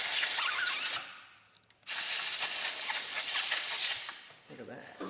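Two bursts of aerosol spray hissing onto a Jeep Compass rear bearing, a roughly one-second spritz and then a longer three-second one, close and loud, with quiet shop noise in the gap between them.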